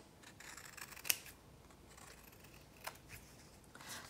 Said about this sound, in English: You just did it yourself with your scissors.